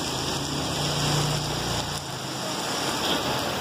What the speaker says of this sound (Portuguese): Chuva grossa mesmo, hein?